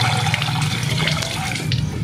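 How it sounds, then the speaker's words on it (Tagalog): Water rushes and gurgles steadily as priming water is poured into a water pump that cannot draw water, a continuous splashing flow with a low rumble beneath, close and fairly loud throughout. "papaandarin natin itong ating water pump para makita natin kung ano yung naging problema niya"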